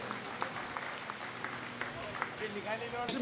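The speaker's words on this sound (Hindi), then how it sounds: "एक बार जोरदार तालियां हो जाए इनके लिए।" Applause from an audience at a Memon community federation gathering, honoring an official on stage, with continuous clapping mixed with crowd noise and overlapping voices over a short stretch.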